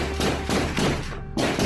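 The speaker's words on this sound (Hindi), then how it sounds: "गोलियों की आवाज, बम धमाका" Gunfire and blasts during a militant encounter in Jammu and Kashmir, loud repeated thudding bursts layered over a constant harsh roar, with a brief dip before the din resumes.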